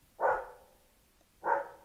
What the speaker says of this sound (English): And now my dogs are barking.